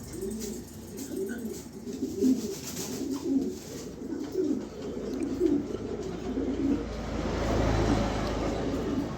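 Young pigeon squabs cooing in a steady run of soft, low, repeated coos held close by, with some background rumble and no talk.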